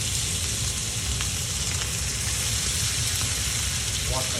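Steak hitting a hot oiled pan over high heat, a loud continuous sizzle and crackle of frying that fills the whole stretch, close and steady.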